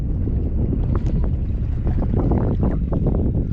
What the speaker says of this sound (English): That wind coming back though is really rough.